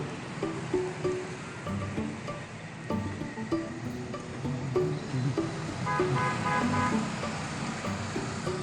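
A car horn toots a few short times over steady roadway traffic noise outdoors near a border facility at Tornillo, with a continuous rushing background.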